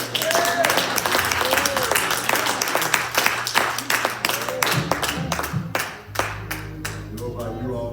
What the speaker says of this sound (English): Let's give the Lord another hand clap.